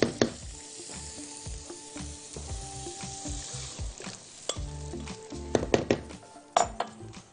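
Tomato paste sizzles and fries in a pan with a steady crackling hiss, while a utensil stirs and scrapes against the pan in repeated clinks and knocks.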